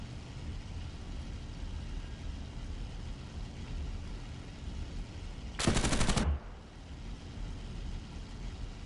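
A brief, loud burst of aircraft machine gun fire in the War Thunder flight simulator, roughly half a second of rapid shots standing out over a steady engine drone.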